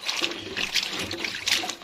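Water splashes and trickles steadily as beet leaves for stuffing are washed by hand in a kitchen, close and continuous for a couple of seconds.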